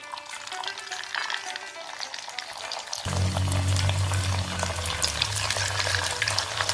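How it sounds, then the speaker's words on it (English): Banana blossom manchurian balls drop into hot oil on a medium flame: a light crackle at first, then a louder, steady bubbling sizzle close by once they go in. "In medium flame I'm going to fry."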